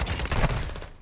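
Video game gunfire from the player's best gun: a rapid, loud burst of shots lasting about a second, dense and close, with no talk over it.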